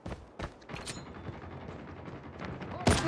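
Sniper rifle shots in Call of Duty Mobile multiplayer Hardpoint, a few sharp broadband cracks spread through busy game noise, the loudest landing near the end.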